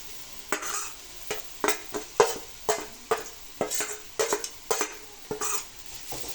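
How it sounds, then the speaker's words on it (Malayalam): A spoon stirs a spice paste of ground cumin, shallot and turmeric in a pan for a Kerala chena leaf thoran, giving a string of short scraping, clinking strokes at an irregular rhythm with a soft sizzle beneath, close and with no talk. "നമ്മൾ ഈ അരപ്പ് ഇതെല്ലാം കൂടെ ഒന്ന് ഇളക്കി കൊടുക്കുമെന്ന്"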